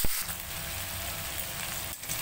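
Prawns frying in hot mustard oil in a home kitchen, a steady close sizzle and crackle with a brief sharp burst at the start and another near the end as pieces go in.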